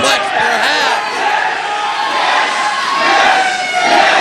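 A wrestling arena crowd roars and cheers at a steady, loud level throughout, full of shouts and whoops blending into one continuous wash of noise.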